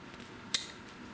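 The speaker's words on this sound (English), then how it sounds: "But if we push this down as well, then it will cut, as you can see." A jawed cutting tool from a car boot sale and flea market snips once, a single sharp close metallic click amid quiet background.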